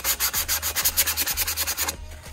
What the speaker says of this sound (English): but when you go to sand it